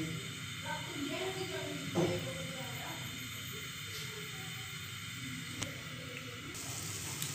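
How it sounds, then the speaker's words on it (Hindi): A pot of water heating on the stove while senna leaf tea is being made, nearly at a boil, gives a steady low hiss and faint sizzle with a few small clinks, continuous throughout. "अभी ये देखें पानी फुल गर्म हो चुका है, पानी जो है ना उबलना शुरू हो जाएगा अभी।"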